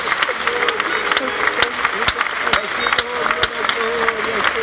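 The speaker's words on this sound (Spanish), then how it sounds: "Ese aplauso mejor para el Señor" Church congregation at a convention claps in praise, a scattered run of sharp hand claps over murmuring voices and a sustained tonal background, lasting several seconds.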